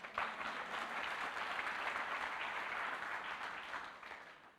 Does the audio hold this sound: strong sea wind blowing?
no